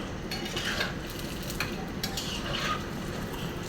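Malpua frying in hot oil gives a steady, close sizzle and crackle throughout, with faint scraping and light utensil clinks over it.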